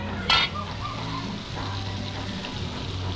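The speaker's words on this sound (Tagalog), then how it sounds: "Prito tayo fried chicken." Chicken sizzling in hot oil, a steady crackling deep fry in a restaurant kitchen, with a brief clatter near the start and a low background hum.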